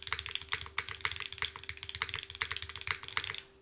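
Fast, steady typing on a custom-built Macross 65 mechanical keyboard with a tuned spacebar, close and crisp, with dense rhythmic clacks and a few deeper thocks running for several seconds with no talking.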